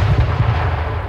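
Gunfire in the H1Z1 battle royale video game, a quick burst of several heavy, booming shots in rapid succession, loud and close, with no voices.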